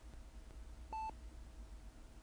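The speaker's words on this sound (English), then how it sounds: "The regular beeping of a monitor next to the bed is so presently reassuring." A single electronic beep from a hospital heart monitor beside a bed in the video game Innate Imperfections, one short clean tone over a quiet low room hum with no talking.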